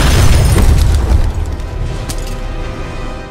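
Heavy explosion booms in Call of Duty Black Ops 6, a loud, deep blast with rumbling low end that decays into crackling debris and a fading roar.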